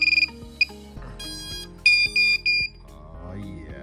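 A few short electronic beeps and tonal chirps from the speed controllers of an iFlight Nazgul XL10 V6 10-inch quadcopter drone sound in a quick sequence, clear and close, followed by a faint rising tone.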